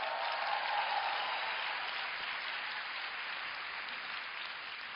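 An audience applauding at a talk, a broad sustained wash of many hands clapping that stays loud and even before easing slightly toward the end.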